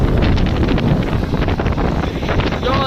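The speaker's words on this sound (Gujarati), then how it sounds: "એક બાજુ વરસાદ, એક બાજુ પવન નું તોફાન" Stormy wind gusting across a farm field during unseasonal rain, roaring loudly and steadily as it buffets the microphone, with no voices heard.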